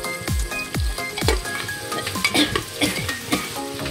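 Finely chopped tomato frying in a pan for a dry Bombay duck pulao, close sizzling with a few sliding scrapes and clinks of the spatula against the pan as it is stirred, brief and nearby, no talking.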